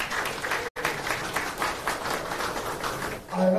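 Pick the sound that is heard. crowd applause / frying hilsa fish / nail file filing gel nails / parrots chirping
crowd applause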